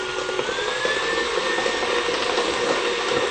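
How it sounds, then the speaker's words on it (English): Electric mixer whirring steadily while beating a vegan orange cake batter, a constant close motor hum with no pauses and no talk. "We're going to turn on the mixer again."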